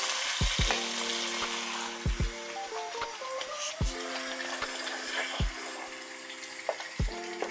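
Ginger, garlic and seeds fry in a pan for a Ghanaian fish stew, giving a steady close sizzle broken by sharp clacks of stirring.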